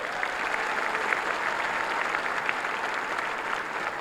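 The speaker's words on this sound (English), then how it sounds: "Let's give Terry another round of applause." An audience at a 2017 high school commencement ceremony applauds, a continuous, even roar of many hands clapping at moderate distance, sustained without pause and with no voices rising above it.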